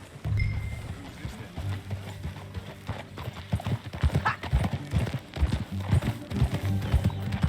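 Hooves clip-clop steadily over a continuous low rumble, and a horse whinnies early on, in Red Dead Redemption 2.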